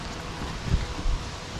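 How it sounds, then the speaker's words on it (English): Strong wind gusting outdoors at a residential landscaping job, a broad rushing roar with a couple of heavy buffets against the microphone. "It is really windy right now"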